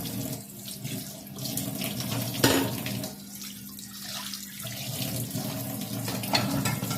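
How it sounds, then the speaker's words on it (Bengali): Dishes washed under a running kitchen tap after cooking, with a continuous gush of water into the sink, shifting as items pass under the stream, with a brief clatter midway. "তুমি হচ্ছে এগুলোকে ধুয়ে নেবা।"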